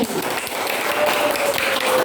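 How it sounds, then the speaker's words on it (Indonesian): A classroom of students clapping together, a dense, fairly loud burst of hand claps that runs on evenly for a couple of seconds, with a faint voice briefly underneath. "tepuk tangan dulu"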